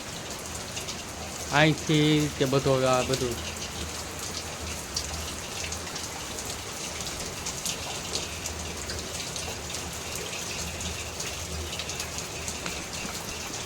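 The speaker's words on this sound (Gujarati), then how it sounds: "જો હવે વરસાદ આવે છે" Steady rain falls throughout, a constant broadband hiss of drops on surfaces that stays even from start to finish, with a short burst of a person talking near the beginning.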